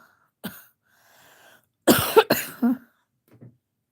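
A person still recovering from illness coughs: one short cough, then a quiet pause, then a loud burst of two or three harsh, close coughs, trailing off into a faint final one.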